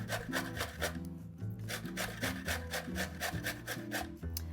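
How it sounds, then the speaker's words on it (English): Zucchini is rubbed quickly against the large holes of a box grater, giving quiet, close, rhythmic rasping strokes at a steady pace. "I find that grating on the large side of a box grater gives the texture that I like the best."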